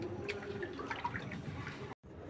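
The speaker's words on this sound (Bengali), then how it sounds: "মাছগুলো ধোয়া হচ্ছে" Faint splashing and dripping water as egg-laden tengra fish are washed by hand, quiet and close, cutting off briefly near the end.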